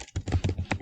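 Quick keystrokes on a computer keyboard while typing code, a short burst of about six close, crisp clicks in uneven rhythm.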